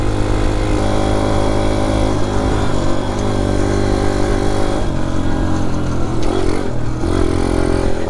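A dirt bike engine with very short gearing drones loudly and steadily, its pitch rising and falling as it revs through short gear changes.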